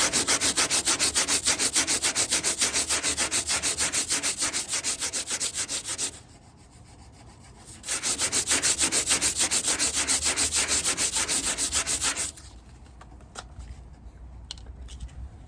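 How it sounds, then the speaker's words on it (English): Wood is sanded by hand in two long bursts of rapid back-and-forth scratchy strokes, close and steady, separated by a short pause and followed by quiet shuffling. "we gotta sand it down"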